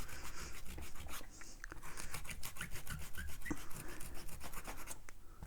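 Dried masking fluid is rubbed off watercolor paper with a rubber eraser tool in quick, steady back-and-forth scrubbing strokes, close and soft.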